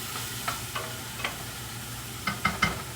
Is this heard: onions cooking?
yes